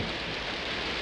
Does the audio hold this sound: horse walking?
no